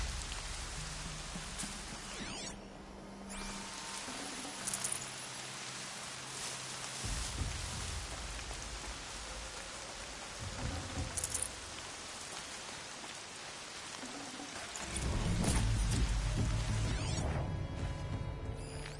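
Steady rain falls in the video game Horizon Zero Dawn, a constant close hiss of drops with occasional soft whooshes and heavier thuds, and no talking.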